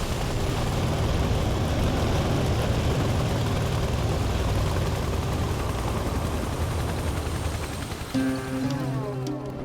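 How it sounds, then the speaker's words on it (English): A smoking, battered Soviet Mi-8 twin-turbine helicopter runs with a loud, constant broadband engine roar and rotor wash that fills the scene, steady and close, with a slight shift near the end. "A smoking, flame-belching, banged-up-looking Soviet Mi-8 twin-turbine chopper whose appearance prior to boarding does not fill me with confidence."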